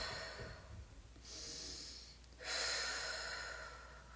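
Slow, deep breaths taken during a foot and toe stretching exercise, a soft inhale followed by a longer, stronger exhale, close and quiet with no talking.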